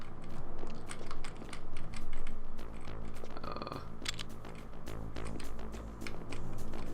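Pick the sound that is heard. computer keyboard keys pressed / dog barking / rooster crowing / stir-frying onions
computer keyboard keys pressed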